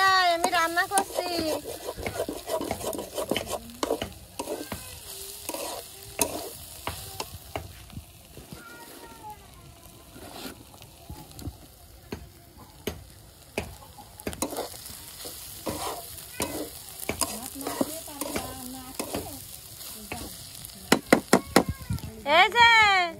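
Food fries in a pan at home while being stirred, giving a steady sizzle broken by repeated scraping and knocking of a utensil against the pan, close by, with voices talking at times.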